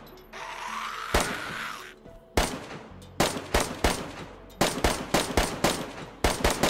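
Gunfire rings out while killing zombies in a city in a PC video game, a rapid series of sharp, loud shots in irregular bursts after a brief opening hiss.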